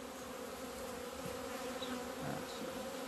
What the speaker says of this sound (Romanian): Trebuie să îndepărtăm un pic albinuțile, să nu ne turtim.